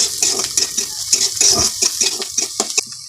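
A spoon stirs curry with garlic paste in a pan, giving steady scraping and a wet sizzling hiss with repeated stirring strokes, close and fairly loud, with no talking.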